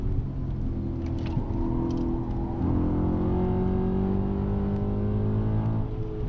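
Audi RS4 B7 with a 4.2 V8 and non-original exhaust, a steady low engine drone with a gradual rise in revs, continuous and fairly muted throughout with no talking.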